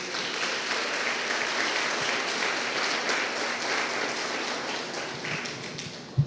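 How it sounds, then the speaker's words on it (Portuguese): A church congregation at a live communion service applauds together, a sustained wash of many hands clapping at steady moderate loudness, trailing off slightly with one sharper clap at the very end. "Você pode aplaudir o nome de Jesus?"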